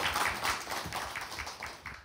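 An audience at a social enterprise crowdfunding broadcast applauds, a dense, even wash of many hands clapping that holds steady for a couple of seconds, with no talking over it.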